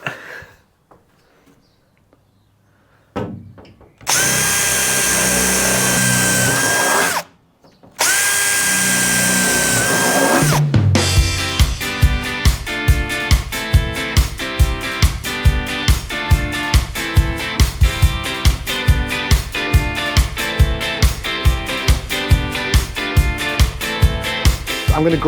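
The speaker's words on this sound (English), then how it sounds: "is terrifying putting holes straight through the wall of your shiny, expensive new van" A power drill bores holes through the metal wall of a new van to fit a window: two loud, sustained whining drill runs, followed by a fast, steady, rhythmic hammering-like chatter that continues to the end, close up.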